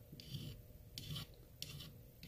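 A metal file rasps a burr off the edge of a rusty vintage case knife in four short, even strokes, close and quiet, with no talking.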